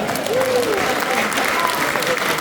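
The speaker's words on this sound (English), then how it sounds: "Please give those people a round of applause." Audience applause at a concert, a steady dense clapping from the crowd throughout, with faint tonal traces and speech-like sound mixed in.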